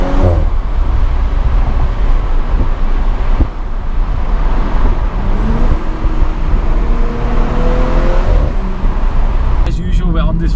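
A 2018 Audi S4 Avant drives along a road, its steady engine and road roar loud and close throughout with wind buffeting, rising in pitch as it accelerates, while a person talks over it.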